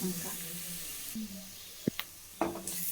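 Onions fry in oil until golden for Gobi Manchurian, a soft steady sizzle with a few sharp stirring clinks, while a voice talks briefly at the start.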